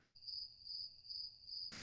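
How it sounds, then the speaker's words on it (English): A steady high cricket chirp trills continuously for a couple of seconds, clear and alone against near silence. "Cue the crickets."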